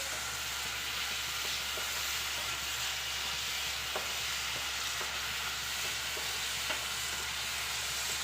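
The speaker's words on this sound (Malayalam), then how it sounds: "നമ്മുടെ പഴമെല്ലാം ഇവിടെ നെയ്യിൽ കിടന്ന് നല്ലതുപോലെ വെന്ത് വന്നിട്ടുണ്ട്" Ripe small bananas cooking in ghee in a pan, a steady soft sizzle and faint crackle running evenly throughout with occasional small pops, no voices.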